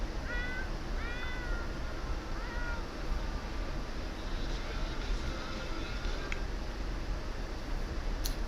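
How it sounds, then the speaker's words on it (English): A cat in The Sims 4 gives a few short meows early on, set over a steady hiss of game background noise, then trails off into quiet ambience with faint clicks. "Why don't you play with the cat a little bit?"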